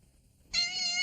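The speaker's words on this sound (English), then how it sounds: "Hey, get that cat out of here." A cat gives one short, clear meow, fairly close and distinct, after a brief near-silence.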